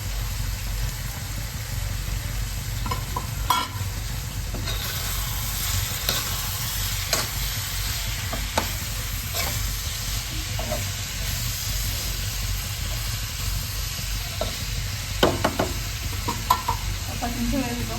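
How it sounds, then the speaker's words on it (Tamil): Sliced bitter gourd stir-fries in a pan, with a continuous close sizzle and frying hiss broken by light scraping and stirring clicks, steady throughout with no talk. "இது கூடவே நறுக்கி வச்சு பாவக்காய் போட்டுக்கலாம்."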